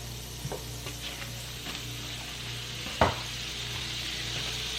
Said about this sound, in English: To my skillet, I'm adding butter.